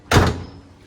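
A car bonnet slammed shut on a used car at a sale: a single loud, close thud with a short ringing decay and no talk.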